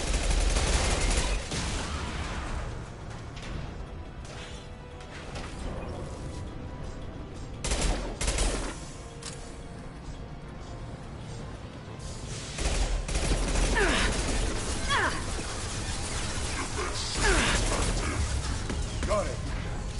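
Video game gunfire from Mass Effect 2, bursts of shots and heavy impacts in a running firefight lasting many seconds, loud and dense with some gaps.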